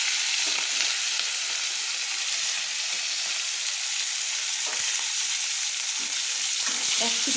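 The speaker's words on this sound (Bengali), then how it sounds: "আমি দেখুন রুই মাছের মাথা 2টো ভেজে নেব।" Two rohu fish heads fry in hot oil in a pan, giving a continuous close sizzle with steady hiss and a few faint knocks and stirring sounds near the end.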